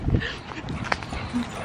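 A puppy whimpers and yips in a few short, close bursts, with a louder cry near the start and a thin whine toward the end, over low indoor rumble and faint voices.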